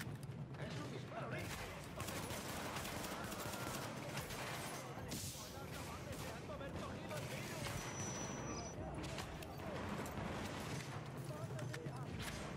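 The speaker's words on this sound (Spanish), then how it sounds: "Es un disparo." Gunfire in Tom Clancy's The Division, with repeated shots and bursts crackling through a dense, busy game soundscape while voices talk over the action.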